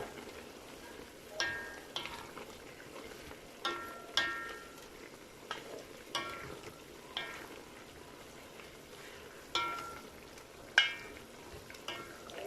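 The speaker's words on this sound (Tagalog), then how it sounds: "Mix na natin guys yung aking adobo." Pork adobo stirred in a pan produces soft, intermittent scraping clacks of a utensil against the cookware, roughly every second, over a faint steady simmer with no talking.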